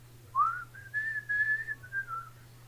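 A person whistles a thin, wavering tune to imitate a ghostly whistle: a short rising note, then several sustained notes sliding slightly in pitch over a faint low hum, quiet and alone.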